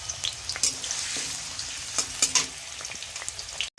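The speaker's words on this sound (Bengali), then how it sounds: "এখানে দিয়ে দিলাম আলুটাকে একটু লাল লাল করে ভেজে নিতে হবে।" Potatoes frying in hot oil, a steady close sizzle with intermittent sharper crackles and pops, heard alone without talk.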